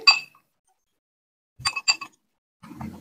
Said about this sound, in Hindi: इनको अच्छी तरह से मिक्स कर लेंगे।